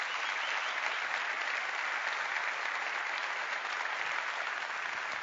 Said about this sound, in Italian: fate un grande applauso anche a loro